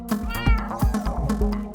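A cat meows several times in quick succession inside Minecraft, with short, close, moderately loud calls over a low background drone.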